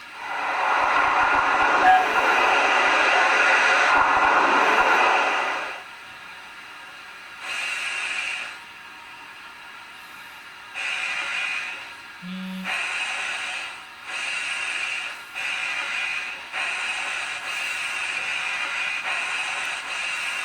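Rhythmic steam hiss from a Hornby Silver Fox model steam locomotive on light haul, a loud burst of venting at first, then softer, regular puffs with brief gaps between them.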